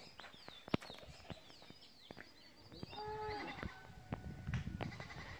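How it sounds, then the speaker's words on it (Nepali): Goats bleat several times over a busy outdoor background of clicks and bird calls, the cries moderately close and irregularly spaced. "यहाँ लु यहाँ बाख्रा आउँदैछन्"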